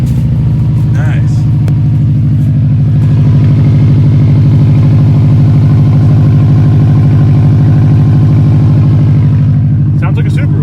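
Car engine idling with a newly fitted exhaust, a loud, close, steady burbling rumble with a Subaru-like throb, with faint voices briefly audible.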